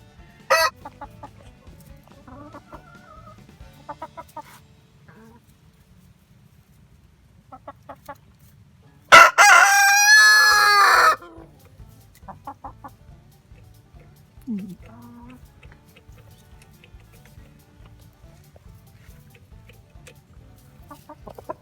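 A blue-feathered rooster in a backyard coop with his hens lets out one loud, close crow midway through. Soft clucks, scratching and faint background noise fill the rest.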